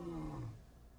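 A male Serengeti lion lets out one deep, rumbling roar that swells and then fades over about a second, close and alone with open air behind it.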